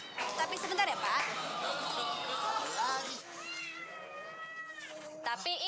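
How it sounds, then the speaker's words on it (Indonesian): A pet cat meows several times indoors, with drawn-out, wavering cries near the microphone; people talk and laugh over and between the meows. "Tapi ini Tommy, kucing saya."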